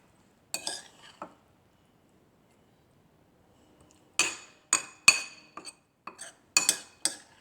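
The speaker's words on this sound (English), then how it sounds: "I'll just start adding all of this mix into the glass" A spoon scrapes and clinks against a champagne glass as ceviche mix is scooped in. About a dozen sharp, bright metal-on-glass taps come in two clusters, close and crisp, separated by a quiet pause.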